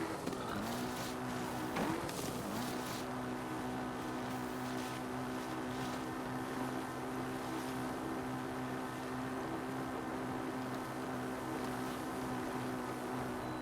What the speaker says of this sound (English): I never envisioned that I'd be riding a motorcycle around Hyrule